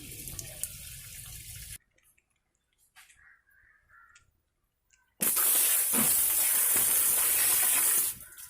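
Water sprays hard onto a Royal Enfield motorcycle engine during washing, a loud steady gush running about three seconds near the end after a quieter opening burst and a nearly silent gap with faint crow caws.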